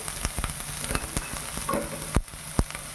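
Chopped onion and capsicum frying over high heat in a pan for ragi manchow soup, a steady crackling sizzle broken by sharp clatters of stirring and a couple of louder knocks near the end.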